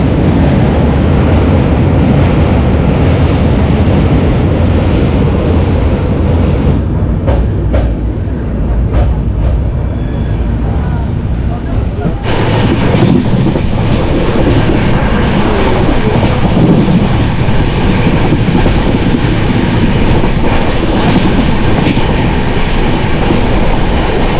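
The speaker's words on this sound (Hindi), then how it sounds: "सामने जा रही है अमृतसर और पूर्णिया के बीच, अमृतसर और पूर्णिया कोट के बीच चलने वाली ट्रेन जनसाधारण एक्सप्रेस" Jansadharan Express train running between Amritsar and Purnia, passing close by in heavy rain, with a loud, steady rumble of rail cars and rain over the whole stretch and a brief shift in tone partway through.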